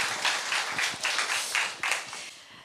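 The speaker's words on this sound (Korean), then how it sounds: "다시 한번 박수 부탁드리겠습니다" Brief, fairly close audience applause at a book concert, a few seconds of scattered clapping swelling and fading without voices.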